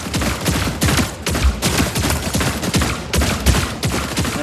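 Rapid gunfire from a Fortnite match in Zero Build mode, with loud bursts of automatic shots repeating in a dense, steady rhythm throughout and no talk.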